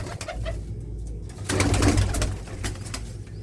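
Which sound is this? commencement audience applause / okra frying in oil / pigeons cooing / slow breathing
pigeons cooing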